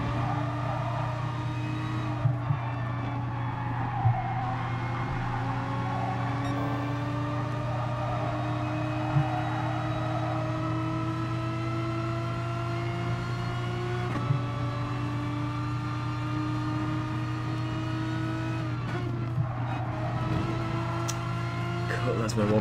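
Race car in GT Sport circling Suzuka, its engine a steady loud drone with rising and falling pitch as the car shifts and accelerates through the sector, running continuously throughout.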